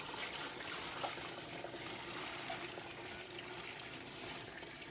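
Broth poured from a container into a cooking pot in a home kitchen, a steady liquid trickle and splash running throughout at moderate level, no voices.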